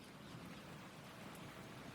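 Rain falls steadily as a dense, even hiss with no distinct drops standing out, faint and continuous.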